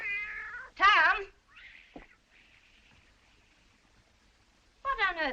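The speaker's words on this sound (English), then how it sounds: "What on earth ails that cat?" A cat yowls and caterwauls in a dramatized story scene, with a loud wavering wail near the start, a few fainter drawn-out cries in the middle and another wavering yowl at the end.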